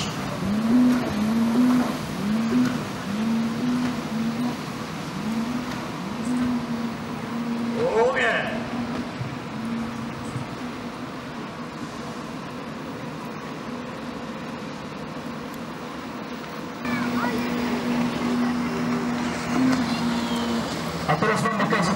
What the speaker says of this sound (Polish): A teraz mam okazję podziwiać łodzie motorowe, które w pełnym pędzie będą wchodziły do naszego portu.